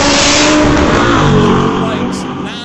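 A turbocharged 1990 Acura and a Chevelle launch side by side at a drag strip, a loud close engine roar that holds strong before fading as the cars pull away, with an announcer's voice faintly mixed in.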